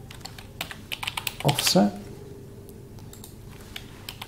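Fingers type on a computer keyboard, a quick run of crisp, close clicks that briefly speeds up before trailing into a few scattered taps, with a voice speaking partway through.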